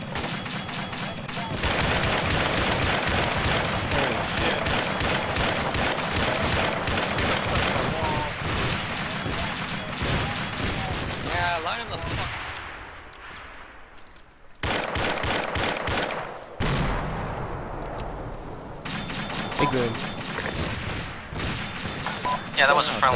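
Heavy gunfire in the military shooter Arma, with sustained machine-gun bursts and rapid shots up close, a brief lull, then renewed firing and impacts, with voices talking in between.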